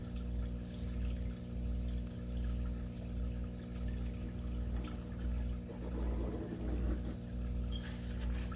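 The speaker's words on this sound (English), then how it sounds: "Why's the hot water heater going?" A hot water heater runs in a basement, giving a steady low hum with a pulsing rhythm of roughly one cycle per second, plus a faint watery trickle on top and no talk.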